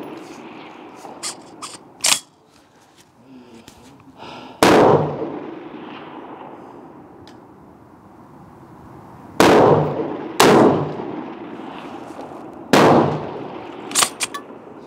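Rifle shots from a Schmeisser SP-15 straight-pull AR-15 firing 77-grain rounds at a range: about five sharp, loud cracks spaced several seconds apart, each followed by a ringing decay, with quieter clanks of the action between them.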